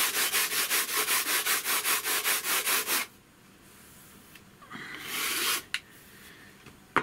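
A Perma-Grit rubbing block sands the edge of FR4 G10 laminate sheet in steady rhythmic back-and-forth strokes for about three seconds, loud and close, followed by quieter scattered scraping and a brief final rub.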